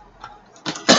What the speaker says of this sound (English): Yes, I'm still coughing like a good one.